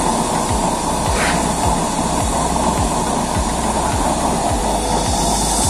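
A used-oil stove burner with cylindrical hinge nozzles roars loudly and steadily with a broad hissing rush and a low, rhythmic pulsing throughout.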